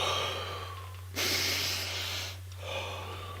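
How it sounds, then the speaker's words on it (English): Slow, deep conscious breathing: a long, full inhale swells in, followed by a softer exhale, close and clear over a low steady hum. "Deep, conscious breaths"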